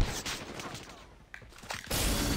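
Gunfire from a shotgun in the mobile shooter Call of Duty Mobile, a few close bursts amid game noise, ending in a loud sustained blast.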